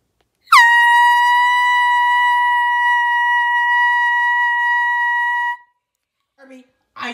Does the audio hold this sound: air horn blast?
yes